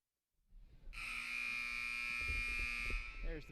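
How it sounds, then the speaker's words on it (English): The game buzzer at a high school basketball game at Tatnall School sounds before the fourth quarter: a loud, sustained electronic tone lasting a couple of seconds, with faint crowd noise beneath. "There's the buzzer back at Tatnall School, about ready for the fourth quarter."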